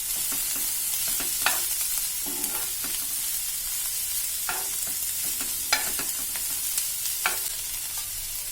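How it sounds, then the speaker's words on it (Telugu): Onion, capsicum and cabbage pieces sizzle in a hot pan with steady frying hiss, punctuated by scattered scraping stirs of a spoon, close and without any voices. "1 కప్పు క్యాబేజీ ముక్కలను కూడా వేసి బాగా ఫ్రై చేసుకోవాలి"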